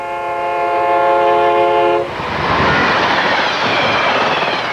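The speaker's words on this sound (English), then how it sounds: "The Canadian Via Rail system offers several trains every day from Toronto to Ottawa." A Via Rail passenger train running from Toronto to Ottawa sounds a loud, sustained multi-tone horn chord for about two seconds, then roars past in a close, heavy rush of rumbling wheel and wind noise with no voices.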